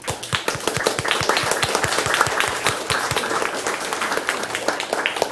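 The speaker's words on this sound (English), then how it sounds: "I want a round of applause for the panel" An audience applauds a panel at a forum on plant-based diets, a steady, dense round of clapping that holds at an even level throughout, with no voices over it.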